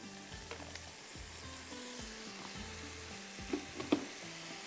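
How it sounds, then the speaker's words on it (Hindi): Freshly ground masala sizzles with boiled mutton in a pot, a steady close fry with occasional stirring scrapes and no voices. "ये बहुत अच्छे से इसको भूनना है।"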